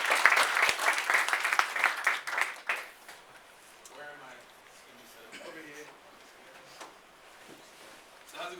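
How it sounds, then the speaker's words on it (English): Audience at a general meeting clapping for a speaker, loud dense applause for about three seconds that then fades, leaving scattered claps and quiet talk. "So big round of applause for him."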